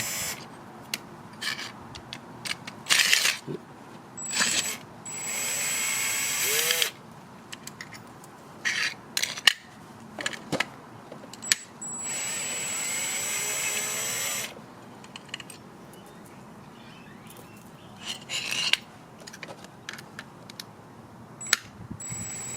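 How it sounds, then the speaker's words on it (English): Screws being backed out of a Givi sidestand foot for a BMW R1200RT, with repeated close ratcheting clicks and mechanical rattles in bursts separated by short pauses, and no talking. "Just going to take all the screws off."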